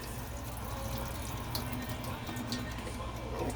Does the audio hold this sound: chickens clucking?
no